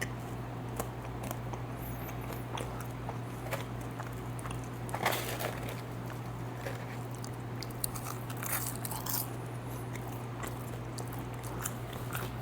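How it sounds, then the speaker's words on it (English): Crunchy fries from Raising Cane's being bitten and chewed close up, with steady crisp bites and mouth sounds over a constant low background hum, no talking. "I'm gonna eat all the fries"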